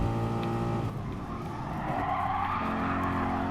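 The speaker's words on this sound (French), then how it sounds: "Le grissement des pneus." Tire squeal from race cars in Gran Turismo Sport, a steady loud screech over droning engines that runs through the whole stretch, with no one talking.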